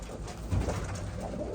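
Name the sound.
racing pigeons cooing in the loft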